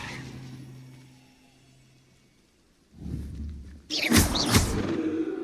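Levioso levitation spell cast in Hogwarts Legacy: a soft low rumble gives way to a sudden bright whooshing burst with a thud near the end, loud and close.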